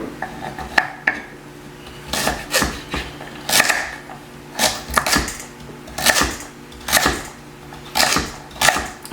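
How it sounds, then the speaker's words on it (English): A knife chops carrots on a cutting board in a home kitchen, giving sharp, evenly spaced thunks in steady bursts of two or three strokes, close and clear with no talking. "I'm going to go ahead and cut my carrots."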